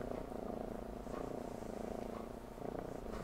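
A cat purrs while asleep on a person's lap, a low, steady rhythmic rumble, faint but continuous and close.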